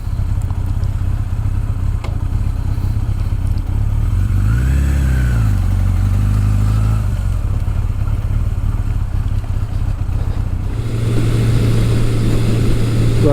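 Steady, loud engine drone of a 1983 Suzuki GS1100E motorcycle on its first test ride after restoration, running throughout with a brief rise and fall in pitch midway and a shift to heavier, rougher throttle near the end.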